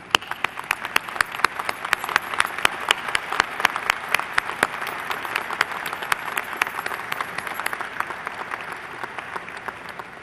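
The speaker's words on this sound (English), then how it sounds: "will all the graduates stand and with me give a round of applause to all those people who are here to honor and support you" An audience at a South Dakota State University commencement ceremony in fall 2006 applauds steadily, with dense clapping from a large crowd that holds at an even level throughout.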